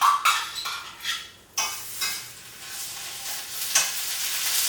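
Garlic and red chili paste sizzle in melted butter in a pan for cooking mussels, with bursts of stirring and scraping over a steady frying hiss.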